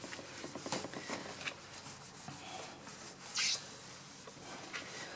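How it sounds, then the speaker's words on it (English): A black microfiber cloth rubs over sprayed bathroom taps, producing soft, close, uneven swishing and squeaking strokes, with a brief louder scuff partway through. "we're going to be using our black microfiber cloth. So we're just literally going to rub"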